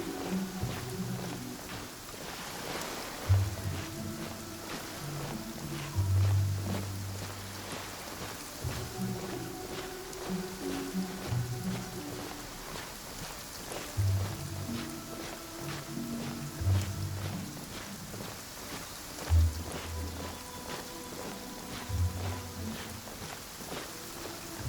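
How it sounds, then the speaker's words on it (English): Steady rain falls in the video game Genshin Impact, a continuous dense patter with periodic soft thuds and footsteps-like bumps throughout. "When stuck on a deserted island, rain is a precious source of drinking water."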